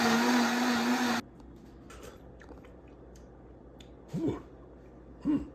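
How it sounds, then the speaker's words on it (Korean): A Vitamix blender purees cooked spring greens soup with a loud, steady whir that cuts off abruptly after about a second, followed by quiet kitchen handling and a couple of brief faint squeaky noises. "다 익었으면 두 번에 나눠서 완전히 부드럽게 믹서에 갈아줍니다."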